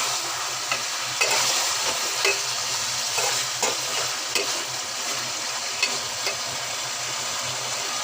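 Potatoes sautéed and stirred in an oily pan give a steady, close sizzle over its full length, broken by repeated scraping knocks of the spatula against the metal.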